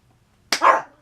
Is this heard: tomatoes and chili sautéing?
no